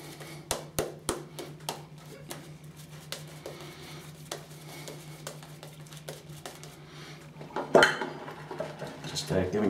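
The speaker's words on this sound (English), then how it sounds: "Just giving it a little mix in the mug there." A shaving brush swirls lavender lime shaving cream around in a mug, producing soft, irregular wet clicks and scrapes with a few louder knocks against the mug's side, close up.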